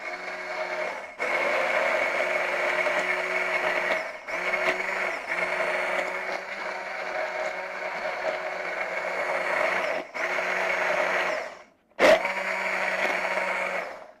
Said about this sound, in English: I'm just going to use my little stick blender and give us a whir for a brief minute